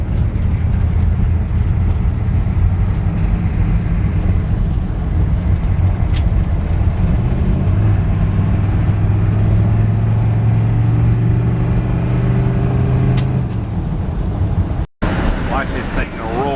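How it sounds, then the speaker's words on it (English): A diesel Chevrolet Suburban with a 6.2 engine and a repaired exhaust rumbles steadily while cruising an old dirt road, a constant low drone with road noise and people talking over it. "I think we'll take her for a ride, see how it barks."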